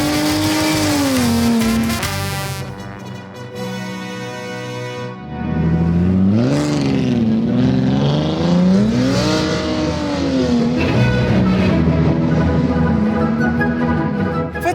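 A Volkswagen Phaeton W12 drives hard on an off-road circuit, its engine revving up and down in repeated surges with gear changes, loud and close throughout, a brief quieter dip partway through.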